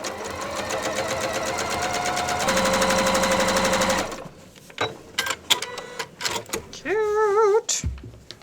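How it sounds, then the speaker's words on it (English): A sewing machine runs at a fast, steady stitching rate for about four seconds as quilt strips are joined for an improv butterfly block. Then it stops, and scattered handling clicks and a short squeaky tone follow. "now I'm just going to go sew these straight edges to these straight edges into a butterfly"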